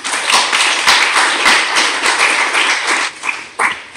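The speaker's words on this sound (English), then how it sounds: "Please a round of applause." An audience applauds loudly and steadily after a lecture, dense clapping close by that thins out toward the end.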